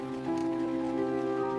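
Rain patters steadily on a surface in London, a dense, even wash of drops that stays at a constant level throughout with no voices.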